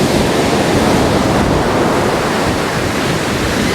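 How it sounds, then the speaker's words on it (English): Strong wind blowing across an Outer Banks surf-fishing beach at high tide around dawn, mixed with waves breaking nearby, a loud, steady broadband roar that holds unbroken throughout. "it's high tide at dawn and the wind is howling."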